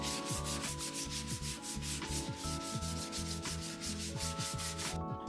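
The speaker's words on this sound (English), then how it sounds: "And a finish sand to finish it off so it's ready for the legs." An orbital-style power sander runs over a wooden plant table top for a finish sand, a steady loud whirring rub with a rhythmic pulsing hum, close and continuous until it cuts off near the end.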